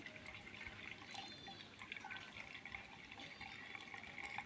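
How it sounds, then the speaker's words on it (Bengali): Homemade mango sherbet drips and trickles slowly through a strainer into a container below. A soft, close, continuous patter of drops carries on with no talk. "এই যে আমের শরবতটা আমি একেবারে ছাঁকনি দিয়ে ছেঁকে নিচ্ছি"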